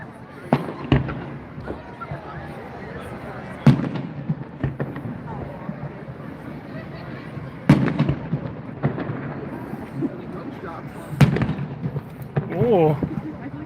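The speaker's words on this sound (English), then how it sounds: "I think I forgot to mention, I love fireworks." Fireworks burst at a New Year celebration in Coeur d'Alene, Idaho: several sharp, loud bangs spaced a few seconds apart, each with a rumbling tail, over steady crowd noise and people talking.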